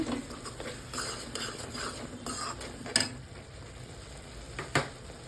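Chili powder and coriander powder being stirred into cooked tomatoes for aloo matar sabzi, a spoon scraping and clinking against the pan in soft, irregular strokes, with a couple of sharper knocks.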